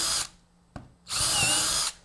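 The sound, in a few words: power drill drilling a hole in wood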